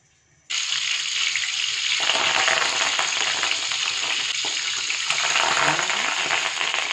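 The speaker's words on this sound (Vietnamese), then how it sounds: "cho dầu ăn để chiên nên mình cho hơi nhiều một chút." Fish cakes wrapped in betel leaves fry in plenty of cooking oil in a pan, a loud continuous sizzle that starts abruptly and crackles steadily throughout, close up and with no talking.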